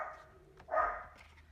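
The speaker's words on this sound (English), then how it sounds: "Excuse my little dog." A small dog gives a single short, fairly faint bark in a quiet indoor room, with no other sounds around it.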